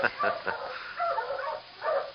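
A small dog yips and barks in short, quick bursts, fairly close and moderately loud, with brief pauses between the clusters.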